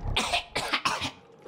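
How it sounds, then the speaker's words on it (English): A game character in Gori: Cuddly Carnage, a toy-factory action game, coughs in three or four harsh, close bursts, followed by a brief quiet stretch. "Wait, why am I coughing?"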